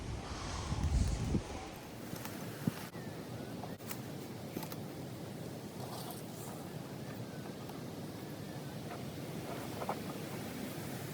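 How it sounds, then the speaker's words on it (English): Strong wind buffets the microphone outdoors in the Australian bush, a continuous loud roaring rumble that swells at the start and then holds steady, with a few faint knocks and no talk. "I can't really film very well today with the wind that's around. It's absolutely crazy windy"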